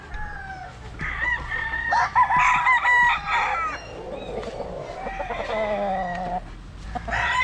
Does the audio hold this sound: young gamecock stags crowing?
yes